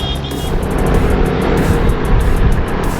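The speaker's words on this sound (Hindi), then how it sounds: "वो देखें आ रहे हैं बाइक चलाते हुए दूर से।" A motorbike rides along a busy road with heavy traffic, its engine and road rumble loud and constant throughout, with no voices over it.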